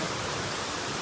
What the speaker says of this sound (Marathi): लय मोठा धबधबा इकडे हे बघा कसा आहे धबधबा